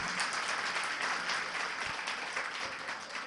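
An audience applauds at a Jain religious sermon, steady, dense clapping from many hands that carries on throughout without a pause.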